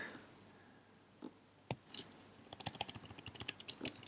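Quiet clicking of a computer keyboard, a few isolated keystrokes at first, then a steady run of quick taps close to the microphone.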